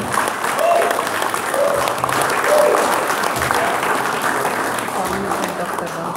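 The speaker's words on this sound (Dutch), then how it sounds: "mag ik jullie warme applaus voor alle vrijwilligers en alle gemeenten." Warm applause for volunteers fills a hall at an end-of-Ramadan Surinamese and Javanese celebration, steady clapping from a crowd that continues throughout with some voices mixed in.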